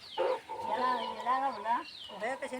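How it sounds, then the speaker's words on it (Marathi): Hens and a rooster cluck and murmur in a coop at a rural Konkan herders' hamlet, a run of low, wavering calls close by and fairly soft. "कोपीत कशी कोंबडी बसलेत"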